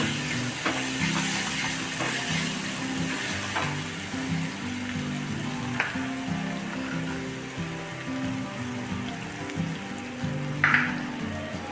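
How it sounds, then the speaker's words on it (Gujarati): Curry leaves and crushed ginger, garlic and green chilli fry in oil for dal fry with a soft, continuous sizzle and occasional light stirring taps, fairly quiet, with no voices. "આદું, લસણ અને મરચી છે તે ક્રશ કરીને લીધું છે તે આપણે નાખી દઈશું."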